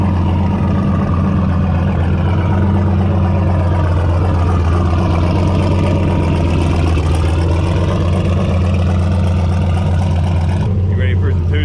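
A turbocharged LS engine in an OBS Chevy 4x4 truck runs loud and close, a deep, steady, throbbing rumble holding for several seconds before shifting near the end, with people talking over it.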